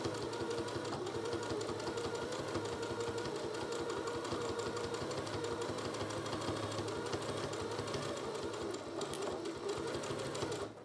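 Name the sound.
sewing machine stitching thick fabric face mask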